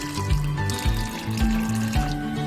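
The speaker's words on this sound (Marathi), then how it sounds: "पाणी ऍड करून या मिश्रणाला चांगले हलवून घ्यायचे आहे एकजीव होईपर्यंत" Water pours steadily into rava uttappa batter in a steady running stream, close and fairly loud, with faint background music and no talk.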